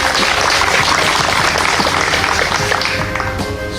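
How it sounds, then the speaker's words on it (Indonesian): Loud, dense applause for Bali athletes being sent off to a national Paralympic games, a continuous wash of crowd clapping with a faint voice underneath. "Tepuk tangan"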